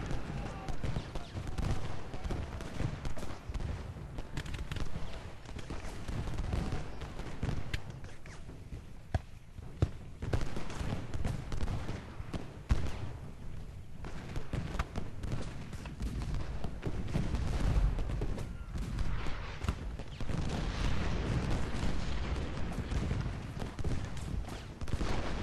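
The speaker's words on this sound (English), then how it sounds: "And now Stephen's artillery has opened up on us." Civil War artillery fire in Ultimate General: Gettysburg, heard as a rumbling mix of distant booms and scattered musket-like volleys under a busy battlefield din, with occasional sharper reports standing out.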